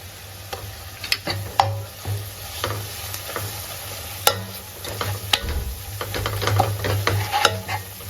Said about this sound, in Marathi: हा वाटलेला मसाला पण त्या मसाल्यांमध्ये व्यवस्थित असं परतून घ्यायचं तेल सुटेपर्यंत